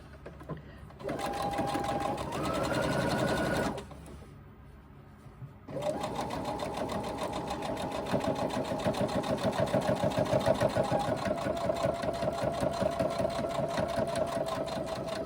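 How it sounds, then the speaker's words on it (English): A sewing machine stitches through the many stacked layers of card slots and backing on a crossbody bag, a steady close mechanical hum running in two bursts with a short pause between, under faint talk. "we're sewing through all those thicknesses of the card slots"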